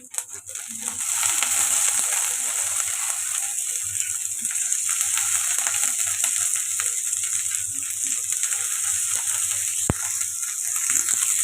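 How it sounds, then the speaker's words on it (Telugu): Green peas frying with ginger-garlic paste in a pan for a dhaba-style matar paneer masala, a steady close sizzle with light scraping and rattling as they are stirred, with no talk. "ఇది మంచిగా ఫ్రై చేసుకుందాం"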